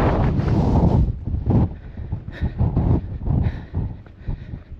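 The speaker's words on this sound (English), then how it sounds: "The wind up here is insane." Strong gusting wind buffets the microphone on a mountain in the Faroe Islands, a loud, continuous rumbling roar that surges and dips in irregular waves, heaviest at the start.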